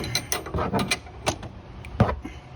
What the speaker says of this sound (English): turn with the wrench the 19mm bolt